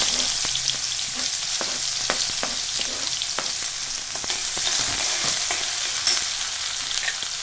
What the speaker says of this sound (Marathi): त्यानंतर आपण चिरलेला कांदा घालतो।